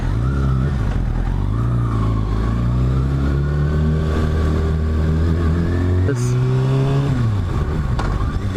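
A motorcycle engine drones loudly up close with steady harmonic tones, pitch rising gradually and then shifting abruptly during gear changes, under wind noise.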